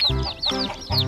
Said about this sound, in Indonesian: Dua ekor ayam rainbow.